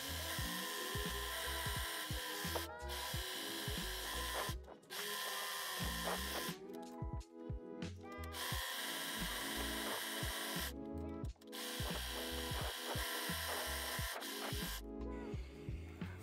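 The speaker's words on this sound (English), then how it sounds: "overlock both sides of sleeve turner and the hem seam of the sleeve" An overlocker runs in repeated bursts while serging both sides of a sleeve turner and the sleeve hem on a summer dress, a loud whirring buzz that stops and restarts several times with short pauses between runs.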